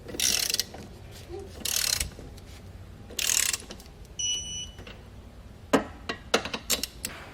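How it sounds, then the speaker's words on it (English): Ratchet clicking as trailer hitch hardware on an EcoHitch Stealth receiver is torqued to spec, with short bursts of close, crisp clicks separated by pauses and a few faint mechanical taps. "go back and torque all of your hardware to the specifications found in your instructions"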